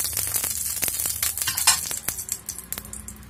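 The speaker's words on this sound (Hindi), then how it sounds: "मैं तवा चढ़ा ली हूँ, इसे हम थोड़ा सा ऑयल डाल देती हूँ ताकि ये इसमें चिपके नहीं" Oil sizzles on a hot tawa being readied for aloo paratha, a steady close crackle with scattered sharper pops and light metallic clinks of a utensil, no talking.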